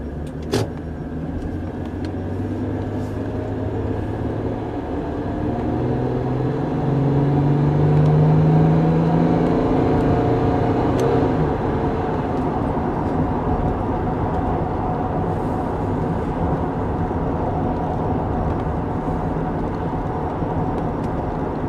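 A car fitted with a KONNWEI KW206 OBDII heads-up display pulls out onto a main road, its engine and tyres giving a steady, fairly loud rumble that swells and then holds as it drives on, with no talking.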